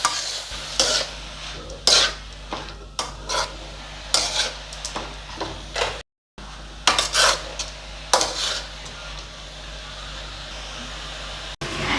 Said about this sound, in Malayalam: ക്യാബേജിൻ്റെ പച്ചമണം മാറുന്ന വരെ നമുക്കിതൊന്ന് വഴറ്റാം.